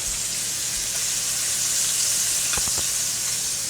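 Small marinated steaks sizzle in a hot pan, a steady hissing fry with a few sharp crackles and pops near the end, no talking.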